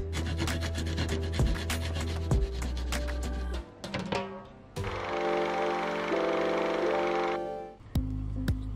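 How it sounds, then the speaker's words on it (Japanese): Half a clove of garlic rubbed against a grater in a home kitchen gives quick rhythmic rasping strokes, close and fairly loud, with a brief pause partway through and a steady scraping passage near the end. "ニンニクをすりおろしておきます。"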